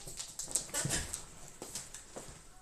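A pet dog whimpers indoors during a casual home livestream, giving a few faint, high, breathy whines and soft snuffles against a background hiss.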